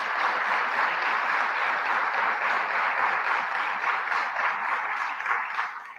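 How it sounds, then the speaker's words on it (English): A crowd at a public event with the governor in Rochester keeps up a dense, steady round of applause close by, tapering slightly at the end. "So let's give FoodLink a big round of applause."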